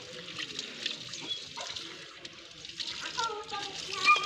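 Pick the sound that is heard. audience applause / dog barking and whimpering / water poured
water poured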